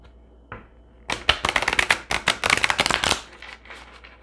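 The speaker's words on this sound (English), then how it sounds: "One last shuffle of these cards." Tarot cards being shuffled in a quick riffle: a brief flick, then a dense run of crisp, close papery slaps and flutters lasting about two seconds before settling into quiet.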